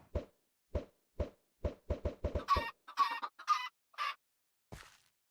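Chickens in the video game GT New Horizons, a run of short sharp clucks followed by a few longer squawking calls, close and clear with no talk.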